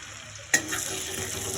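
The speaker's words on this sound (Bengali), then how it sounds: "বাটারের মধ্যে এলাচ, দারচিনি আর লবঙ্গ ফোড়ন দিলাম।" Cardamom, cinnamon and cloves dropped into hot butter for a vegetable rezala: a sudden sizzle bursts out after a quiet moment, then settles into a steady crackling fry, close and fairly loud.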